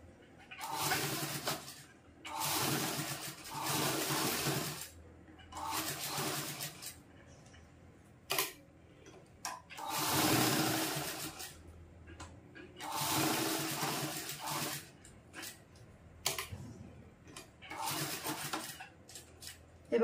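A sewing machine stitching a fabric charging wire cover runs in short bursts of rapid mechanical whirring, separated by pauses and small clicks and handling noises, fairly quiet and close.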